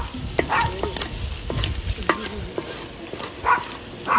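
Chorizo, carnitas and beans sizzle in a pan while a utensil stirs them, with irregular scraping strokes over steady frying hiss, close and fairly loud.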